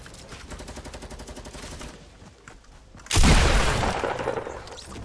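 Rapid automatic gunfire rattles in a fast burst in Fortnite, then a loud explosive blast erupts and rumbles on.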